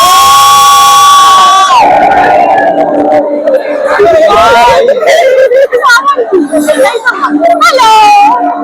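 A loud crowd at the Chandannagar Jagaddhatri Puja at night, close shouting and cheering voices including children, with a long whistle-like call at the start and busy hubbub throughout.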